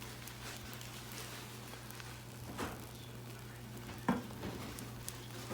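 An egg for a breakfast burrito cooks in a pan as it is swirled around, giving a steady soft sizzle with a low hum beneath and a couple of brief louder knocks.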